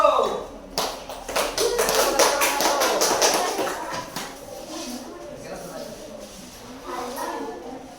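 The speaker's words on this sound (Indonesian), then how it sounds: "Berikan tepuk tangannya kepada kelompok 1" Classroom students clap for group 1 in a lesson: a burst of dense, close applause in the first few seconds that fades into murmuring voices and light scattered claps.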